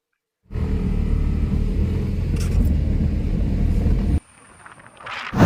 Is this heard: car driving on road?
yes